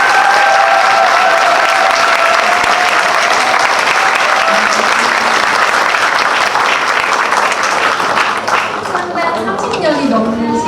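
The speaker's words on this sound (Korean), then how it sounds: "다시 한번 큰 박수 부탁드립니다." Big audience applause at a Korean benefit concert evening, loud dense clapping sustained throughout, with a host's voice speaking over it near the end.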